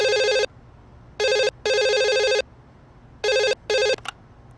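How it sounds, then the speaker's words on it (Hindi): Telephone ringing in a series of loud electronic ring bursts with short gaps, two pairs of rings followed by a clipped final one, close and alone. "फोन उठा।"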